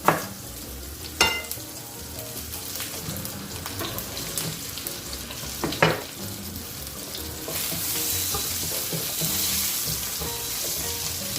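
Onion and garlic sautéing in a pan for ginataang hipon with kalabasa, a steady close sizzle with occasional sharp clatters of utensils, rising into a louder, brighter hiss over the last few seconds.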